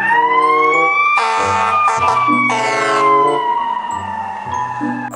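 A loud electronic siren wails and slowly falls in pitch, like a toy fire truck, over a plinky tune with repeating low notes.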